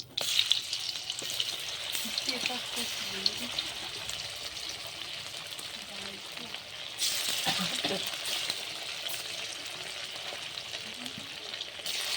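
Chicken pieces frying in hot oil for chilli chicken give a steady, moderate sizzle throughout, with occasional stirring clatter and a brief surge of louder crackle midway.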